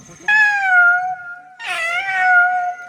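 A voice mimics a cat with two drawn-out, tonal meows, the second starting higher and wavering, loud and close with no other sound.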